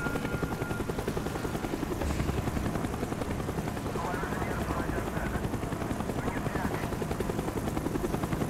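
Helicopter hovering overhead in the Call of Duty Black Ops video game, a steady loud rotor chop and engine drone throughout, with game voices speaking over it.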